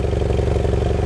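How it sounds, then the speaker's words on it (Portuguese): A motorcycle engine idles in neutral with a deep, loud, throaty roar, a steady rapid rumble pulsing close to the microphone for the whole moment, with no voices over it. "Vou colocar na neutra aqui. Aí, você entrou na neutra. Olha o ronco."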